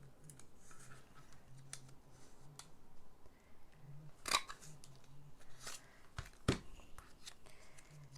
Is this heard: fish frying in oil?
no